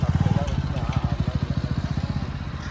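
A motorcycle engine with several faults idles loudly and close by, its steady rapid pulsing thumps running throughout.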